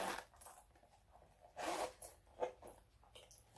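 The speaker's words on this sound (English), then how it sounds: "The zipper won't close." Zipper on a pre-loved luxury handbag being tugged, with short scratchy zipping bursts and small clinks of metal hardware, close and fairly quiet, with no talking.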